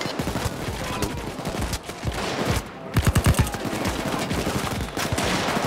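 Sustained gunfire in a Payday 2 heist shootout, with overlapping shots and a sharp cluster of loud reports partway through, amid constant clatter and chaos.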